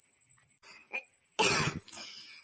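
A cartoon character gives one sharp, harsh cough after a couple of faint throat sounds, close and loud, with a thin high tone running in the background.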